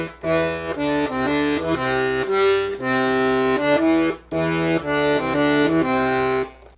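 A bass line of the song Alouette played on a 48-bass accordion, sustained reedy notes moving stepwise in a steady phrase with brief breaks, loud and close, no talking.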